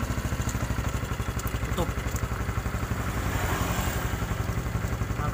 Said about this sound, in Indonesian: Kita gas sampai moncrot oli